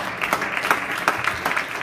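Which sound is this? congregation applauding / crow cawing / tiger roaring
congregation applauding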